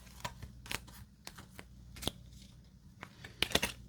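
Room cards from the Mini Rogue card game shuffled by hand up close, soft papery riffles and slides with a few sharper card snaps over a low steady hum, no talking.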